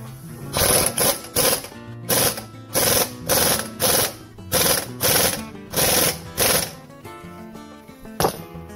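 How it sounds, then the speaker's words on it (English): An impact wrench works on a front strut of a GMC Envoy, hammering in about nine loud, evenly spaced rattling bursts close up, each lasting under a second. "So I'll go ahead and impact this."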